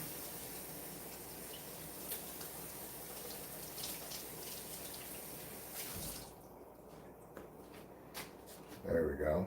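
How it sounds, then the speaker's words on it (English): Broad hiss of tap water running over a large head of broccoli in a kitchen sink, steady and fairly close for most of the stretch, then thinning out near the end as a few clatters and handling sounds follow. "wow, this is a big broccoli, so I guess I will rinse this off first."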